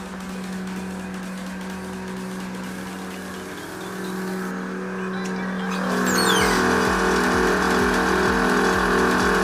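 Car fitted with an AccuAir air ride suspension setup, with something rattling at the back, idles with a steady low hum, then revs louder and rougher over the last few seconds, close up and with no talking.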